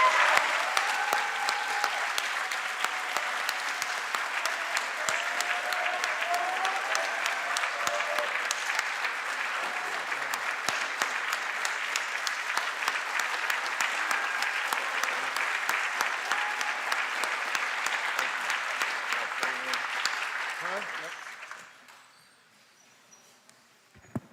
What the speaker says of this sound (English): a round of applause for Coach Pete Skirmahorn.